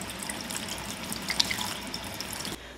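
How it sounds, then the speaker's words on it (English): Tap water runs steadily into a sink while butchered quail is rinsed under it, a continuous close splashing hiss that stops abruptly near the end. "I would always recommend doing this near a sink, right, so that you can rinse it off as you go."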